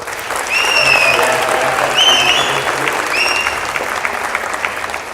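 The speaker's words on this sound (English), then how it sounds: "they truly deserve a round of applause" Steady, dense applause from an audience at an Arangetram dance debut, sustained throughout, with a few bright whistle-like tones rising above the clapping.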